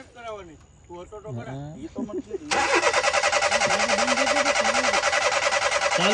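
A car that had stalled late at night cranks and its engine starts, settling into a loud, steady pulsing idle after someone speaks over a quiet background.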